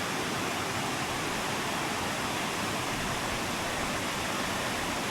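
Veddapeni falls, a small waterfall at Manigala Etanwala in the Knuckles range, gives a steady, even rush of falling water that fills the scene without pause or voices.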